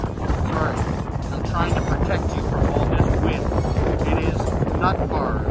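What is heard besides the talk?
strong wind blowing on microphone outdoors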